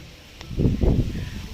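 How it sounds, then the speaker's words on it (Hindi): Strong wind on a rooftop during light rain buffets the microphone in a short, loud, rumbling gust that swells and then eases off. "छत पे इतनी हवा चल रही है, बहुत ज़ोर की हवा चल रही है"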